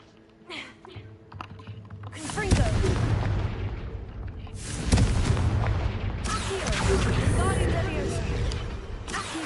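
A Confringo spell explosion in Hogwarts Legacy erupts as a loud, booming blast, followed by a second burst of rumbling, crackling noise, over quieter clicking in the background.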